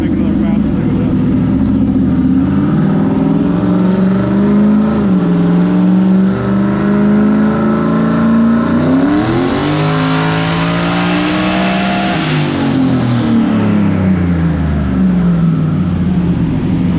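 A loud Mustang engine revs on a dyno, its drone climbing in pitch and sliding back down over the pull, with a whistle rising at the peak and the roar holding throughout.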